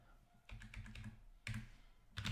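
Keystrokes tap on a computer keyboard while someone types text into a program, in short bursts of clicks separated by brief pauses, close and fairly quiet, with no talking.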